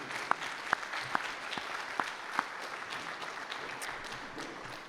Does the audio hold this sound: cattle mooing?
no